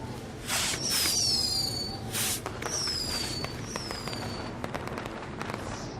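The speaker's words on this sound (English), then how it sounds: "we'll get to see some cool fireworks" Fireworks go off in the WWE 2K20 video game: several whistling launches rise and bang, followed by a run of crackling bursts that fade out, with no speech.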